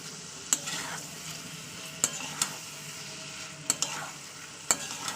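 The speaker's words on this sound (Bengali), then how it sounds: "তিন থেকে চার মিনিট আমি কষিয়ে নেবো জিনিসটা গ্যাসটা পুরো আমি জোরে দিয়েছি ভালোভাবে কষিয়ে নেবো" Chicken with ginger-garlic paste sizzles steadily in a pan over a high gas flame, with a spoon scraping and clacking against the metal every second or so, close up with no voices.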